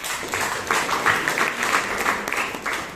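A room full of people applauding at a Toastmasters meeting in Bangalore, a steady wash of clapping hands at moderate volume that continues throughout.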